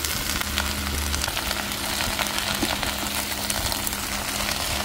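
Cabbage sizzles steadily in a pan with sautéed garlic, onion and tomato, a dense, even crackling hiss with a low hum beneath, close and constant throughout.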